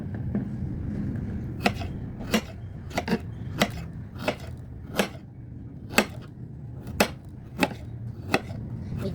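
A knife slicing ginger and garlic on a cutting board, producing sharp, evenly spaced chops at close range, roughly a dozen crisp strikes over a low background hum.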